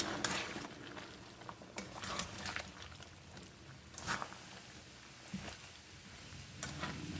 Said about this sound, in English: So we're gonna stir this again.